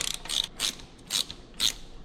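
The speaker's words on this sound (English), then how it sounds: "You're simply just going to take the bolt out, replace it with the new one, using a 1/4 inch Allen." A 1/4 inch Allen ratchet working an engine bolt out of a Harley touring 117 VVT engine makes four short, evenly spaced bursts of quick clicking, close and fairly quiet, with brief pauses between them.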